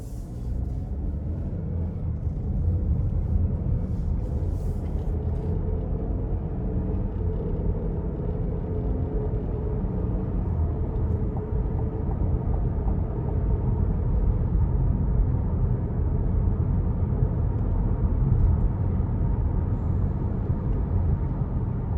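Steady low rumble and road roar from inside a 2021 Buick Envision Avenir rolling over a bumpy, potholed road, a continuous muffled drone with slight swells and no talking.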